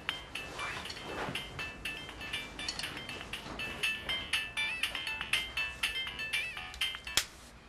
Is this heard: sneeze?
no